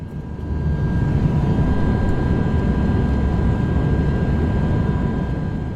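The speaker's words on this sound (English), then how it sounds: "I'm on a small turboprop plane heading over the Baltic Sea from Stockholm Airport to Visby" Steady broadband drone of a small turboprop plane cruising over the Baltic Sea between Stockholm and Visby, a constant cabin roar with faint tonal whine, loud and unbroken throughout with no talk.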